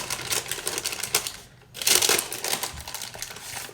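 Crisp meringue layer of a rhubarb and ginger pavlova being peeled back gently, giving close, dry crackling and crinkling in quick bursts, with a short quiet pause before the crackle resumes.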